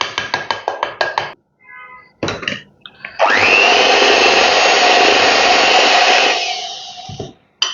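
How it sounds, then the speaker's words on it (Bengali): Flour, salt and baking soda are sifted in a kitchen: a rapid series of rhythmic scraping taps, a pause, then a loud continuous whirring hiss lasting about three seconds before it cuts off. "এই শুকনো উপকরণগুলো আমি এখন চেলে নেব।"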